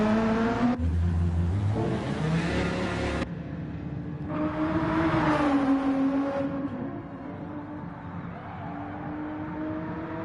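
Race cars circling Daytona in Gran Turismo 7, a steady, loud engine drone with pitch rising and falling as cars accelerate and shift, several overlapping motors sweeping past without pause.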